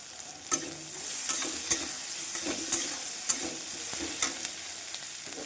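Chopped ginger fries in hot oil with a steady, close sizzle, while a utensil stirs and scrapes the pan in repeated sharp clicks; no one speaks.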